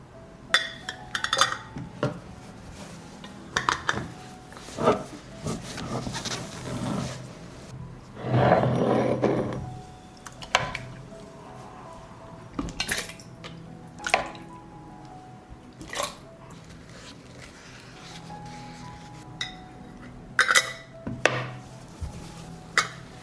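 Scattered glassy clinks and lid clicks ring out close by as glass canning jars are closed with sterilized lids, with a brief wet squishing stretch midway, in an otherwise quiet kitchen.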